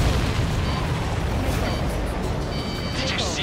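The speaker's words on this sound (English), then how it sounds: "Did you see that explosion?" A dense, roaring explosion in a flight combat video game, sustained and loud with a rumbling low end.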